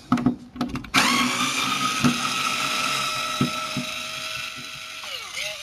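A screwdriver loosens screws on a PS3 20GB console under repair, giving close, quiet ratcheting clicks and short mechanical turns with brief pauses between them.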